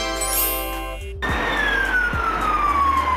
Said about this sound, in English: It has bright flashing lights and a loud siren.